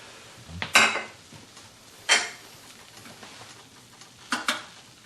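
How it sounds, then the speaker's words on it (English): A clay pot is covered with its lid while chicken and glutinous rice cook, giving three short ceramic clatters spaced a second or two apart, each a bright clink against quiet background. "So cover with the lid again."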